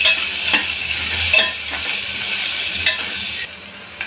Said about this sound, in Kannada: ಈಗ ಅದಕ್ಕೆ ಈರುಳ್ಳಿನ ಸೇರಿಸ್ಕೊಳ್ತಾ ಇದ್ದೀನಿ ಈರುಳ್ಳಿನ ಕಲರ್ ಚೇಂಜ್ ಆಗೋವರೆಗೂ ಫ್ರೈ ಮಾಡ್ಕೊಳ್ಳಿ